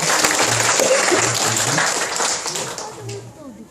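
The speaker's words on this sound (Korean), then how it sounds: "박수로 환영해주시면 감사하겠습니다." A church congregation claps to welcome a visiting guest during a service, a loud, dense burst of applause that gradually thins out over a few seconds.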